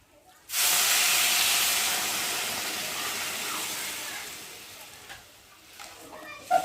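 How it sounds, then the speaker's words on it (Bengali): Water poured into a hot pot of Gobindobhog rice khichuri bursts into a loud hiss of steam that starts abruptly, holds steady, and fades slowly, with a few small clinks near the end. "আমি আর এখন পরিমাণ মতো জল দিয়ে দেবো"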